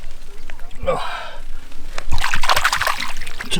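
A hand splashes into the sea at Båstad, Sweden, at the end of a long coastal hike: two short close splashes a second apart, with a gasp and breathy voice sounds around them.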